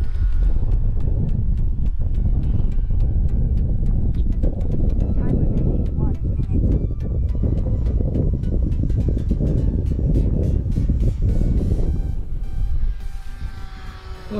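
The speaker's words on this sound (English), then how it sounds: "A little bit of a gust there, better get her up." Outdoor wind gusting across the microphone while an RC plane, a Bixler 2, is flown, a loud continuous rumbling buffet that swells and eases with faint buzzing from the aircraft's motor underneath.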